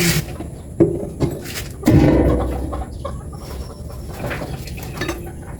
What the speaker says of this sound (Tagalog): So dito ako naghuhugas ng kaldero sa labas.